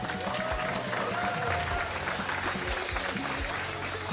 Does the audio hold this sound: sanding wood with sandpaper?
no